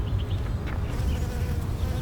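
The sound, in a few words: swarm of bees buzzing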